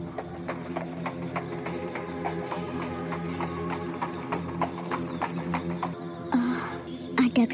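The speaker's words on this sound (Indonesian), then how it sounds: "Ada kereta kuda berhenti di depan rumah." Horse hooves clip-clop in a steady, even rhythm as a horse-drawn carriage pulls up in front of a house and comes to a stop, with a brief horse snort or whinny near the end.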